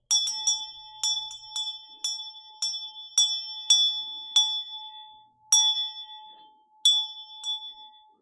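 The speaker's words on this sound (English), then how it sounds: "An actual bell." A small bell rings again and again in clear, bright dings, each one ringing on and fading, struck at a loose, irregular pace in a quiet room.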